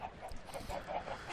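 Flock of chickens on a farm in the video game Minecraft, a cluster of overlapping clucks and honk-like calls repeating in quick succession, fairly close and clear.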